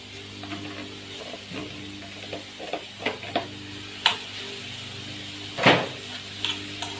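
Meat being stirred in a frying pan with onion and minced pepper, faint sizzling under intermittent scraping and clicking of a utensil against the pan, with no voice.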